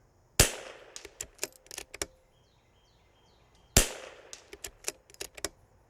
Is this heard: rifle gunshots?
yes